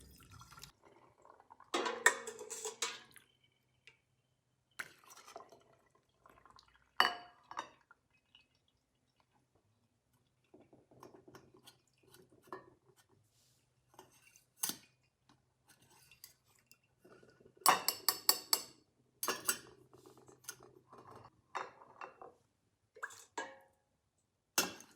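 Gizzard stew broth drained through a wide canning funnel, heard as scattered clinks of utensils and metal, intermittent trickling and dripping liquid, and a couple of louder clattering bursts. The clip is mostly quiet and has no talk.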